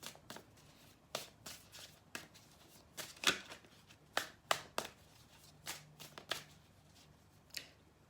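Tarot cards being shuffled by hand in close, quiet bursts of papery riffling and taps, about a dozen irregular flicks, with no talk.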